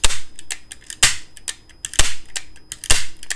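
Several sharp mechanical snaps from a Hwashin staple gun as its trigger is pressed, each a crisp close crack followed by smaller clicks, spaced about a second apart.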